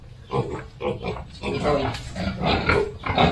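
A pig grunts in a string of short, close, throaty bursts, mixed in with people talking nearby.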